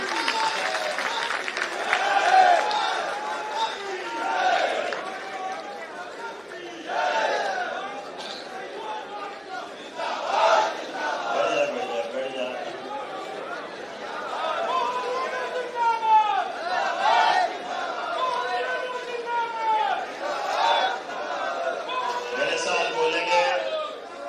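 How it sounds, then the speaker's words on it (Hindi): At a ceremony where a chief minister attends a swearing-in event, a crowd claps and murmurs to welcome him. The applause and chatter keep going under a loud voice speaking through a public address system. "तालियों के साथ अपने स्थान पर खड़ा होकर स्वागत वंदन अभिनंदन करिए।"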